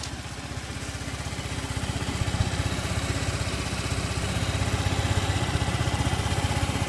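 A fuel-injected 2010 Honda Elite NHX110 scooter engine idles steadily close by, a rapid, even putter with a constant loudness throughout.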